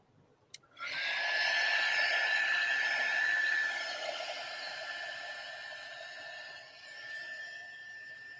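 A hair dryer switches on with a click and blows steadily at close range to dry a wet watercolor painting, holding a high whine with a slight dip near the end.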